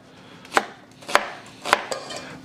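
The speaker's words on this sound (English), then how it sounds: "I'm just gonna chop them just like that, crudely, coarsely" A knife coarsely chopping onions on a cutting board: three evenly spaced sharp thuds about half a second apart, followed by a softer fourth, close and distinct with no voices.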